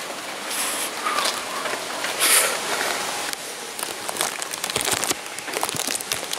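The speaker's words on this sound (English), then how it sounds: "It's raining so hard out here." Heavy rain pours outside during a huge flooding storm, a dense steady hiss with scattered close drops and crinkly patter, heard nearby without any talking.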